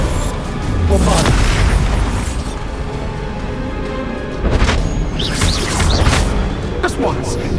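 A Bombarda blast spell goes off in Hogwarts Legacy, heard as loud booming bursts within dense game combat noise, with a voice shouting spell names over the action.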